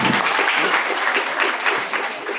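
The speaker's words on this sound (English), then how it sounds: "Give a round of applause for Veronica." A room full of people at a Brooklyn debate league summer camp showcase claps for a presiding officer, a thick, loud burst of applause that tapers slightly near the end.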